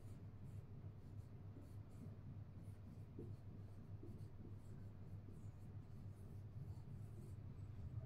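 Chalk or marker writes on a board during a biology lesson, a faint continuous scratching with short rhythmic strokes, close and alone.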